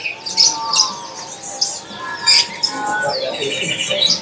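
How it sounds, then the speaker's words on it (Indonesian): Caged lovebirds at a bird market chirp in short, high, scattered calls, some sharp tweets standing out against a low background murmur. "Oke teman-teman, di sini ada yang namanya burung lovebird ya."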